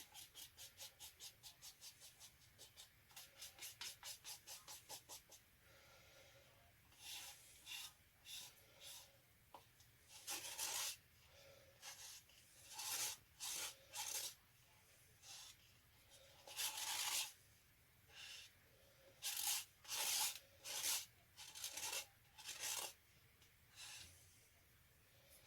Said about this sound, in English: Scrape my cup. Sorry for the noise, guys.